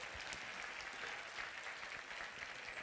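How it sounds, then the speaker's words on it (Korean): Church congregation at a Sunday worship service applauding Christmas decorations, a soft, distant, continuous patter of many hands clapping that stays level for the whole stretch. "박수 한번 쳐주시든지."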